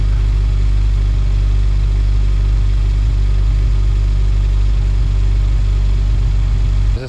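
A 1997 Jeep Wrangler TJ with a faulty throttle position sensor driving down the road, its engine a loud steady low drone with slight revving, close and continuous with no talking.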